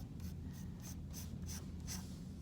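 Pencil drawing on paper while shaping a bird sketch, a quiet run of about seven scratchy strokes in a loose back-and-forth rhythm, close up over a low background hum, with nobody speaking.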